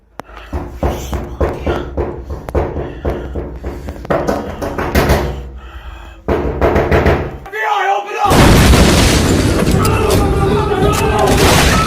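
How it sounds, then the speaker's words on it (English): Knocking in an apartment: a run of sharp, evenly spaced thuds for several seconds, then a pause and a loud, dense noisy burst that carries on to the end. "This time, the man encountered knocking sounds in the apartment."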